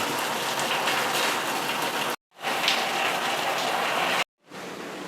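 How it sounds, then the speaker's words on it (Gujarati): A dense, even wash of heavy rainfall plays in two long stretches, each cut off abruptly into brief silence before the steady hiss returns. "છેલ્લા 2-3 દિવસથી એટલો વરસાદ આવી રહ્યો છે."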